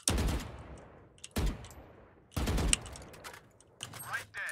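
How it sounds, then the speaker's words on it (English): Valorant gunfire in a match: three sharp, loud bursts of rapid shots a second apart, each decaying quickly, followed by a softer metallic burst, with the player's voice faintly present. "That's me, I'm shooting."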